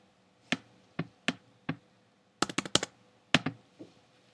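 Keystrokes on a computer keyboard while resizing an image in Adobe Muse: isolated clicky taps, then a quick burst of several keys, then a few final presses, close and fairly crisp, with no talking.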